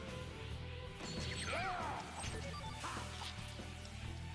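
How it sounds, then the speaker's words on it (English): A smash attack in Valkyrie Profile 2: Silmeria on PS2 against a skeleton foe during break mode, a crashing impact with swooping effect tones over game music, moderately loud. "I literally smashed the poor thing to pieces"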